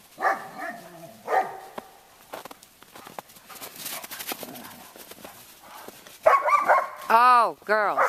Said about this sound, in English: Don't make that noise. Don't be barking.